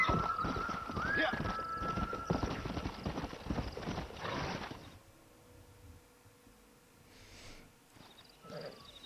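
Horses in the Red Dead Redemption video game clatter along at a gallop, loud and busy for several seconds before cutting to quieter snorts and faint movement, with some speech present.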